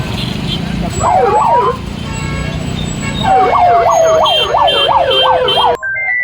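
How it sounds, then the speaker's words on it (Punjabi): A warbling electronic siren on a taxi fitted with a red light wails loudly nearby in rising and falling sweeps, pausing briefly before resuming, with street noise underneath. "ਇੱਕ ਗੱਡੀ ਸਾਇਰਨ ਮਾਰਦੀ ਹੋਈ ਜੇ ਰੋਡ ਤੋਂ ਆਈ ਹੈ"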